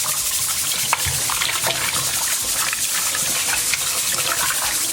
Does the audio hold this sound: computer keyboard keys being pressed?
no